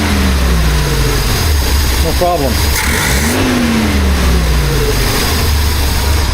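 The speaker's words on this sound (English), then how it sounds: "give it a couple of revs and see what it sounds like" A BMW 2002 engine revs a couple of times in a garage, rising and falling blips over a steady idle, with someone talking over it.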